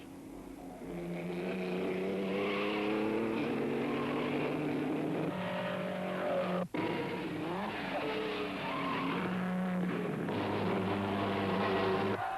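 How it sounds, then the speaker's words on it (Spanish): Vintage 1920s race cars, among them an American Duesenberg, roar past in a dense pack, engines droning loudly and continuously with harmonic whine and a brief sharp break midway, alone without voices. "Los coches que siguen en carrera están agrupados"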